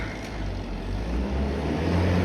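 A tow vehicle arrives to collect a car that had been pushed aside, its engine producing a steady, close, low rumble that swells slightly toward the end, with no talking.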